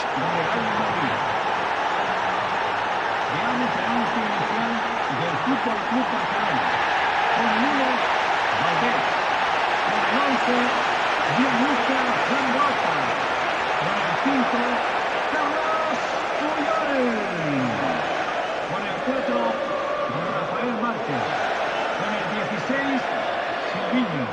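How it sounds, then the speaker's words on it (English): Packed stadium crowd at an El Clasico match in the video game FIFA, a dense continuous roar with rising chants throughout, steady and loud under a commentator's talk. "It's packed, the crowd are up for it"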